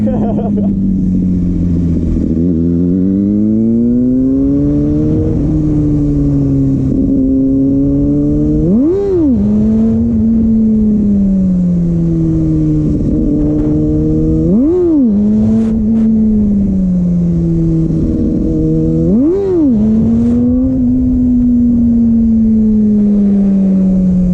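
Loud, close engine of a Kawasaki ZX6R sport bike doing wheelies, holding a steady drone broken by three sharp rev surges spaced several seconds apart, each followed by the engine easing back down.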